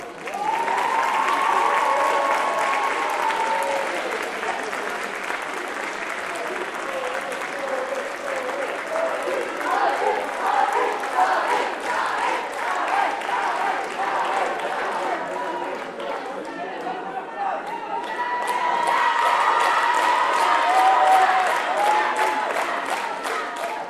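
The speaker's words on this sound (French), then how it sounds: "On les applaudit bien fort." An audience at a high school pleading competition award ceremony applauds continuously for over twenty seconds, a dense, loud patter of many hands that dips briefly and swells again, with a voice speaking over it.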